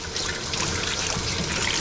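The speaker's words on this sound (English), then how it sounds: "letting the water flow all over to get the soap off of that" Tap water runs steadily over a soapy kitchen knife being rinsed at the sink, a close, full trickling wash that holds even throughout with no talking.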